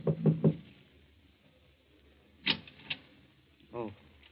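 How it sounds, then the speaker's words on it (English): Knocking on a door as an old-time radio drama sound effect: a quick set of three raps, then two more spaced knocks, crisp and close in a quiet room, with a voice following. "knocks at the door of number"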